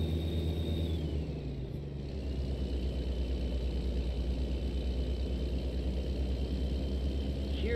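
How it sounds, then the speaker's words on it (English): A heavily loaded oversized truck in American Truck Simulator strains with a low, steady engine rumble at low speed, droning continuously and loudly without pause. "Hear that engine struggle too under that extreme amount of pressure putting it under."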